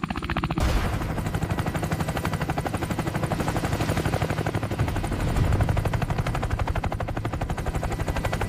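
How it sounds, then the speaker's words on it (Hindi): An army helicopter's rotor chops in a fast, steady rhythm that stays loud and close overhead throughout, with a deep rumbling engine drone underneath and no voices. "ये आर्मी वालों का हेलीकॉप्टर है"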